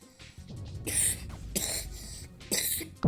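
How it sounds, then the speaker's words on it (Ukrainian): Three harsh coughs spaced about a second apart, close to the microphone, each a short raspy burst, with a brief throat-clearing sound between them. "Я просто кашляю, але сильно трохи."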